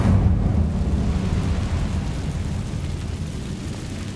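Incendio fire spell cast in Hogwarts Legacy: a loud, dense roaring rush that bursts in at once and then holds as a steady rumbling blaze, slowly thinning over a few seconds with no voices.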